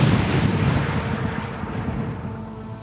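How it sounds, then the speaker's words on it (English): Demolition blast of almost 100 kilos of explosives erupts as a deep, booming explosion that opens loud and rumbles on, slowly fading with a low roll across the whole span. "Almost 100 kilos of explosives were primed and ready to go."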